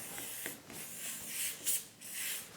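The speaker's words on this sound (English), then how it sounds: "spray our moulds" Soft hissing spray bursts onto moulds, a few short puffs separated by brief gaps, fairly quiet and close.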